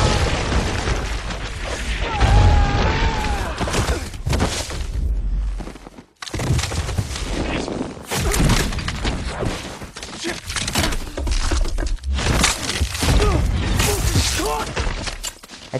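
War-film battle foley for Lone Survivor: loud, dense crashes and heavy thuds of rifles and bodies hitting the ground, with bursts and impacts, then a brief drop to near-silence before the chaotic clatter resumes.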